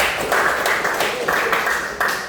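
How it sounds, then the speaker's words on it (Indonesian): Pupils in a primary school classroom clap together during a lesson, a short burst of brisk, uneven hand claps at close range, with a few louder accents and some murmuring among them. "Tepuk tangan untuk kita semua dulu."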